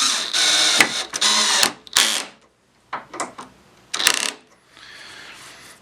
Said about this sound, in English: we'll put a couple of these screws in here